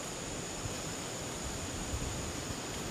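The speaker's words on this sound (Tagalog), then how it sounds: "lagaslas ng tubig" Deep water rushes as a steady, loud, unbroken roar, heard alone with no speech.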